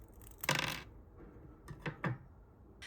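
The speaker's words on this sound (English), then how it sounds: "We'll use a large scissors to snip it off." Large scissors snip a 3D-printed bridging block off a printed brush: a few crisp, close cutting clicks, one stronger snip followed by a quick cluster of three, in a quiet room.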